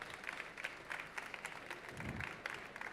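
Audience applause at a French barista championship qualifying round, a steady patter of many hands clapping across the room, moderately distant, with a brief low rumble partway through.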